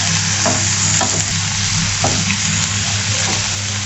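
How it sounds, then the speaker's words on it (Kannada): Soya manchurian mixture sizzles steadily in a hot pan while a utensil stirs it, with occasional scraping knocks over a continuous loud frying hiss and no talking. "ಇವಾಗ ಚೆನ್ನಾಗಿ ಮಿಕ್ಸ್ ಕೊಟ್ಕೊಳ್ಳಿ"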